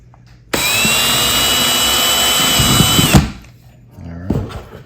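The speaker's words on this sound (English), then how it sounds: "we're gonna start out with a little pilot drill here" A power drill boring a pilot hole in a Nucanoe Flint kayak: one loud, continuous high-pitched whine lasting about two and a half seconds, then stopping abruptly, followed by faint handling clatter.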